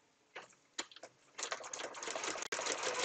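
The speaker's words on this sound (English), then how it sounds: "So I'm sewing along the solid line." A sewing machine stitches along a marked line on fabric in quick rapid bursts, then runs as a steady close whirring rattle after a few short starts, with no talk.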